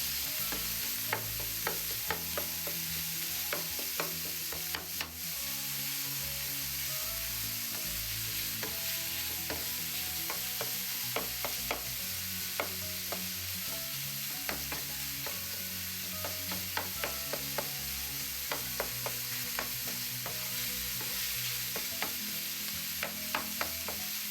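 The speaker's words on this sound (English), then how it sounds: "if your ground pork is clumpy like mine, you just take your spatula and just try to separate them just like that." Ground pork stir-fried with water spinach sizzles steadily in a pan while a spatula scrapes and taps repeatedly, breaking up clumps of meat in an irregular rhythm, close and fairly quiet, no talking.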